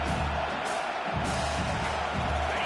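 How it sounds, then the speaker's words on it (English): Home crowd at a Texas college football game roaring loudly, a dense, steady wall of cheering and shouting that holds for the whole stretch with slight swells. "how nice is it to have the home crowd going absolutely bananas?"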